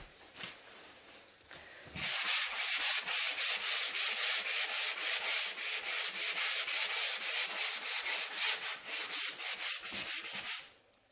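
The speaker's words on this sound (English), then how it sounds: "I'm gonna turn it around and show you her sanding." Steady abrasive rasping of hand sanding on a patched wall, raising sand dust, starting after a quiet couple of seconds and continuing in rhythmic back-and-forth strokes, close and fairly loud with no talk.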